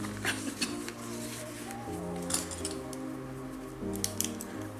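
Scissors snip through a paper template for a junk journal, a few sharp clicks and crisp cuts over a steady low background hum.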